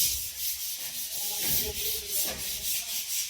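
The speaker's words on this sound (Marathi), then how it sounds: "पुट्टी घासताना व्यवस्थित घासायची आपल्याला" Steady rhythmic scraping of sandpaper smoothing dried putty on a wall, a continuous close rasp that swells and fades in repeated strokes with no talking.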